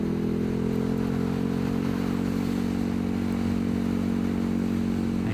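A KTM Super Duke 1290 R motorcycle cruises along a mountain road, its engine a steady, continuous drone with dense low harmonics and constant wind rush, loud and close throughout with no voices.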